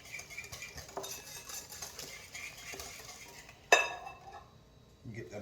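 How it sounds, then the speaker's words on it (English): Mashed potatoes with seasonings being whisked in a bowl, a busy run of metal clinks and stirring scrapes, with one louder clink near the end, close by and without talk. "All right, so we're going to go ahead and whisk this up."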